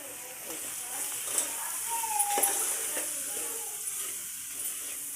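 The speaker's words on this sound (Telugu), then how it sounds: "అన్నీ కలిసేటట్టు ఇట్లా కలుపుకోవాలి." Chilli powder and ginger-garlic paste are stirred in hot frying oil, giving a steady sizzle and hiss with occasional scraping knocks from the spoon. A voice is faintly present.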